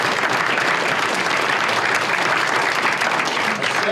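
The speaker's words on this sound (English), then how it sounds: "no need to hold your applause when I mention their names this year" An audience at a freeholders' annual reorganization meeting applauds as a senator is introduced, a loud, continuous wash of clapping that holds steady throughout.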